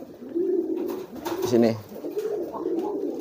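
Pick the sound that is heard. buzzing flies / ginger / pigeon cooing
pigeon cooing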